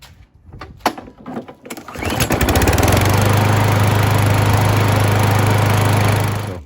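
A 2017 Craftsman lawn mower with a Kohler XT675 engine, once tipped onto the wrong side so oil got into the carburetor, starts on one pull after a few clicks and rattles, then settles into a loud, steady running drone close by.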